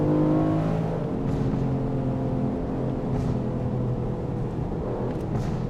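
Aston Martin Vantage Roadster V8 burbling steadily up close, with a few sharp exhaust crackles popping over the low drone.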